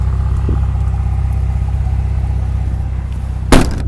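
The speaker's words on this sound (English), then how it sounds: "Comes with a big muffler. Nice sound." The twin-turbo engine of a 2002 Mitsubishi Legnum VR-4 with a five-speed manual idles through a big muffler, a loud, steady, deep rumble with a brief sharp knock or blip near the end, and no talk.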